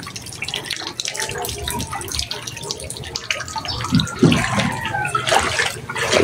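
Floodwater laps and drips around a flooded house where a small hut is submerged, steady splashing and trickling throughout with a few louder sloshes near the end.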